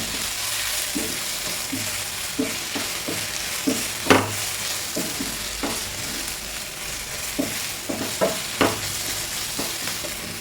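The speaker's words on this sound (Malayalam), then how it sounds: "സവാള ഒന്ന് വാടി വരുമ്പോൾ ഇതിലേക്ക് ഒരു 2 പച്ചമുളക് ഇട്ട് കൊടുക്കുക" Sliced onions and green chillies frying in oil for an egg curry, a steady sizzle broken by repeated scraping knocks of a spoon stirring the pan, close and alone.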